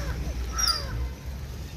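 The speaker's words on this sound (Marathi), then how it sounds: "9च्या दरम्यान हजारो कावळे गोळा होतात." Crows cawing at a feeding gathering of thousands, with a few distinct harsh caws rising over a low, steady background rumble; the calls sound moderately distant and brief.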